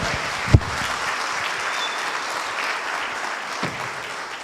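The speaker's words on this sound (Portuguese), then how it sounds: "Agora aplauda para valer" A church congregation applauds during a Catholic Mass, a steady wash of many hands clapping with a sharp thump near the start and faint voices beneath.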